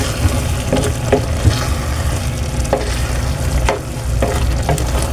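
Santol with shrimp frying loudly in a pan, close stirring strokes scraping every second or so over a constant sizzle, no voices.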